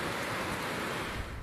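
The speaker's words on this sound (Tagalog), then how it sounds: "Sa Camarines Sur, hinampas na rin ng matataas na alon ang bahaging ito ng Karamuan." Large storm waves surge and crash ashore at Caramoan, Camarines Sur, during Typhoon Uwan, a steady loud broadband roar of surf and wind-driven water with no voices.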